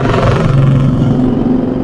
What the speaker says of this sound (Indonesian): ada motor Kendaraan